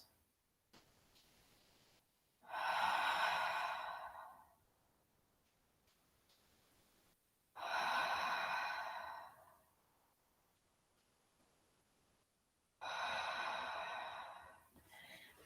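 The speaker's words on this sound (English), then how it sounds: "Let your arms extend back behind you and take 3 breaths." Three slow, deep breaths spaced evenly apart during a yoga pose with the head resting on the floor, each a soft, airy exhale heard close in an otherwise quiet room.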